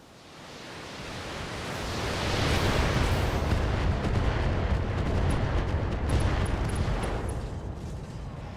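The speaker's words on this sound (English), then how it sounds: "Let's see if we can finish him off with an FTL barrage" An FTL missile barrage strikes a mech in BattleTech with the BTA mod, a swelling roar of overlapping explosions building to a sustained rumbling wash of noise that slowly eases off, with no talking.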